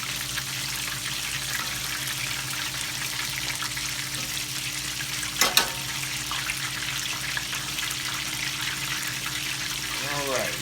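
Tempura-battered fish and shrimp fry in hot oil on a home stove, giving a steady close sizzle throughout with a brief louder crackle midway.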